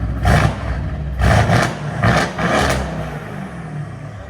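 Mercedes-AMG C-Class engine in individual mode, a 4.0L V8 or 3.0L V6, revved in three loud bursts about a second apart, each swelling and dropping back to a throaty idle, recorded close by.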